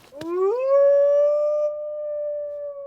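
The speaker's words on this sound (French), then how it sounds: "J'ai trouvé une appli qui traduit en aboiement tout ce qu'on dit." A cartoon dog voice from a bark-translation phone app gives one drawn-out, rising howl-like cry that holds a steady tone for a couple of seconds, loud and clear with nothing else around it.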